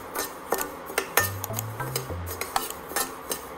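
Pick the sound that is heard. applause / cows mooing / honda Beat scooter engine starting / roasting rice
roasting rice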